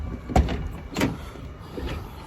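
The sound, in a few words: damaged car door opening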